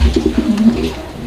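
A pair of large grabber pigeons cooing, one short, close, throaty coo with a soft rolling warble, heard alone.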